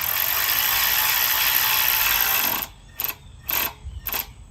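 A ratchet wrench tightens bolts on metal gazebo roof trusses, giving a steady whirring ratchet for over two seconds, then three short separate clicking bursts.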